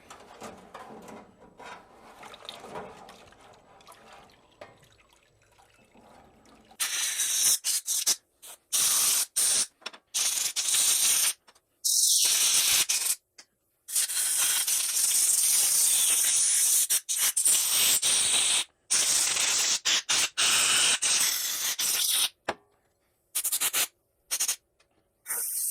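Parts cleaner spraying on a Cheetah dirt bike part, a quiet start followed by loud bursts of hissing spray cutting on and off repeatedly.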